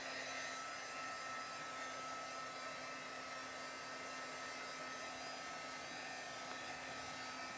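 A hair dryer blows steadily and fairly close while drying a mixed media craft piece during an evening craft session, with a constant whooshing roar and a faint whine holding for several seconds, no talking.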